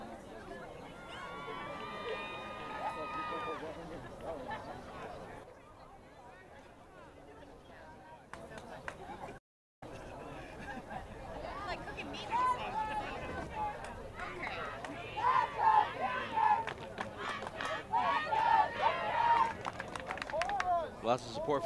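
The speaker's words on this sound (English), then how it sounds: "All the cheering has basically been on that junior class." Crowd at a 2017 junior-versus-senior flag football game in Falmouth cheering for the junior class, with scattered shouts and a swelling burst of yelling toward the end, mixed with steady chatter and commentary voices.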